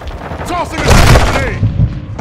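A grenade in a first-person shooter video game goes off as a loud, close boom with a rolling rumble that swells and slowly fades, with brief game sounds around it.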